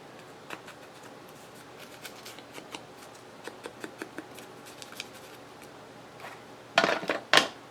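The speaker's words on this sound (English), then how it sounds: "Probably should just use the scissors on it" Scissors snipping paper while working on a junk journal, a run of light, crisp cuts spaced irregularly, followed by a louder burst of paper rustling and handling near the end.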